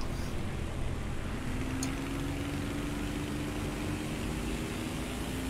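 Propeller engine of a biplane in the War Thunder video game, a steady droning hum with a faint rising whine, continuous and moderately loud throughout with no talking.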